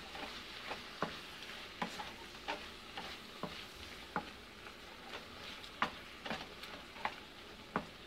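Shrimp and cabbage stir-frying together in a pan: a steady close sizzle, broken by regular sharp clacks and scrapes of a utensil against the pan, with no talking.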